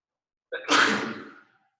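One close sneeze: a quick sharp inhale followed by a loud, breathy burst that trails off, with silence on both sides.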